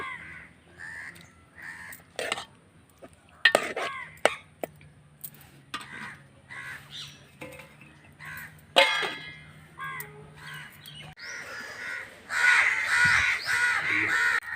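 Several harsh crow caws ring out at intervals, some close and loud, with other birds and faint background noise around them.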